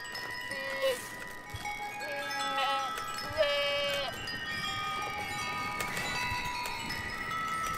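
Goats bleat several times in a video game on a mountaintop, their calls recurring over a steady windy, musical game background at moderate loudness.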